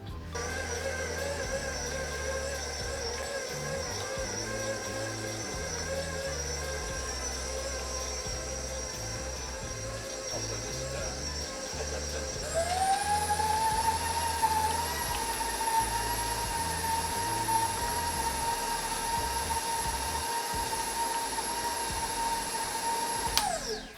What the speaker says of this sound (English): I'll put it in the stand mixer and then mix the cream cheese until it's smooth